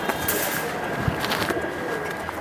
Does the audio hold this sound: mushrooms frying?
no